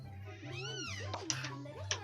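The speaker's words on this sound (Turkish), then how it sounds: "Evimizde kedi var." A pet cat meows indoors at home, a drawn-out rising and falling call with a couple of faint sharp clicks, heard over a steady background hum.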